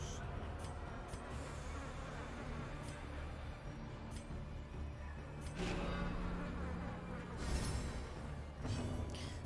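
A mosquito in the video game Darkest Dungeon gives a steady, quiet insect-like buzz that stays low and continuous, with a few faint clicks on top.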